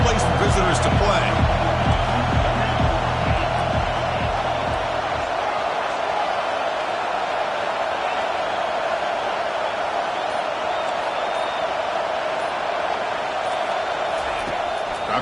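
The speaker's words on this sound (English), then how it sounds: "listen to this crowd noise. This stadium is vibrating." Loud, steady roar of a packed stadium crowd at a football game, a dense continuous wash filling the whole stretch, with a commentator talking over it at the start.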